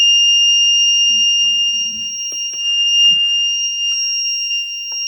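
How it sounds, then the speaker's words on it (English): Electronic alarm of a homemade infrared parking security system, a loud steady high-pitched continuous tone sounding alone for several seconds with faint handling noises beneath. "if my hand moves away, alarm comes"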